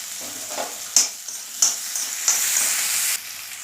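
Chopped onions sizzle and fry in oil in a pan while cooking small bitter gourd fry. The sizzle is steady and close, punctuated by a few sharp stirring clatters and hisses, with no talking.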